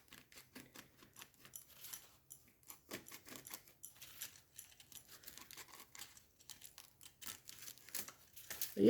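Quiet crinkling and snipping of scissors cutting through aluminium foil paper, with irregular small crackles throughout.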